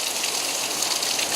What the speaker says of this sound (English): There's gushing water right there.